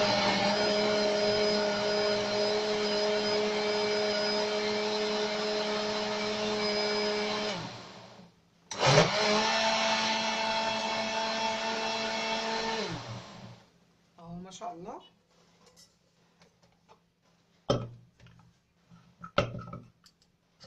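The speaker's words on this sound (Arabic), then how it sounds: "هنضربه بقى دلوقتي مع بعض في الخلاط ونشوف النتيجة بتاعته" Kitchen blender pureeing cooked fava beans with greens for Egyptian bessara, a loud steady whir running for about seven seconds, a brief pause, then a second burst before it winds down into faint clicks and taps.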